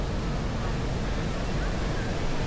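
Fountains splash steadily in KLCC Park, Kuala Lumpur, a dense, even wash of falling water with no break in its level, heard from close by without any talking over it.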